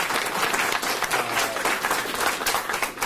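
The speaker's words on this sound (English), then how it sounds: "I think a round of applause for Dr. Mignon." Sustained applause from a conference audience at a symposium, a dense, steady wash of many hands clapping at close range throughout, with no talk over it.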